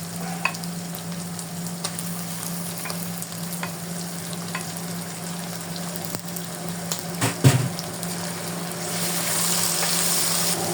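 Chicken breast sizzles steadily in a hot pan alongside garlic, onion and chicken gizzards, with occasional clinks and scrapes from stirring and a louder burst of sizzle and scraping near the end.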